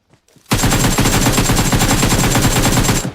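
Enemy fire in a shooter game with a heavy weapons mode: a loud, close, rapid machine-gun burst kicks in abruptly and hammers on in an even rhythm for nearly three seconds before cutting off.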